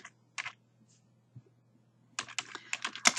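Someone types a message on a computer keyboard: isolated key taps early, a pause, then a quick run of clicks toward the end, close and fairly quiet.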